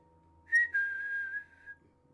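A single person whistles a short, clear tune: a quick rising note, a brief break, then a long sustained tone that slowly falls away, alone against quiet background hum.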